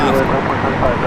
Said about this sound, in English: Air Tahiti, Nui Flight 8. Rocket and rolling down the 24